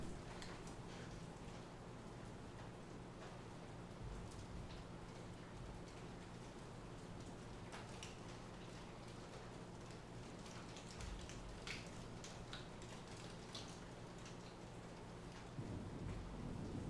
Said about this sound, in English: out here in the middle of a thunderstorm